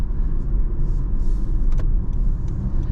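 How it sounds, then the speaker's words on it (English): Steady low tire and road roar fills the cabin of a 2023 Honda HR-V while driving, a constant broadband rumble with small clicks and rattles, no talking. "I'm not a big fan of the road noise"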